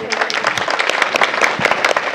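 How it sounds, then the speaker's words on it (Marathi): An audience at a kirtan bursts into brief, lively clapping that sounds close and fills the whole moment, with no break in the applause. "एकदा जोरदार सगळ्यांसाठी टाळ्या झाल्या पाहिजेत."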